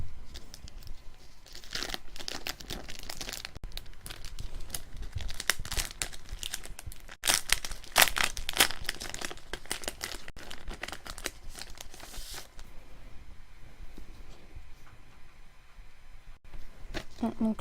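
Paper and plastic crinkling and tearing as Pokémon gift packages are unwrapped, close and continuous rustling with sharper rips midway, while a voice talks intermittently.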